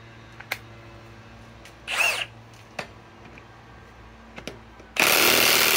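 Ridgid high torque impact wrench on an EXP217 battery driving a 10 inch lag bolt, heard as a short hammering burst near two seconds and a loud sustained impacting run at the end, close by, with no talk.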